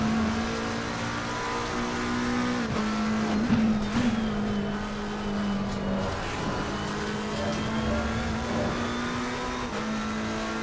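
A McLaren 720S GT3 race car in Assetto Corsa Competizione laps Oulton Park, its engine droning steadily with gear shifts, revving dips and brief tire squeal, loud and continuous with no voices.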